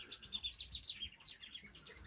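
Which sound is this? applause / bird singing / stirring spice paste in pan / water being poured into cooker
bird singing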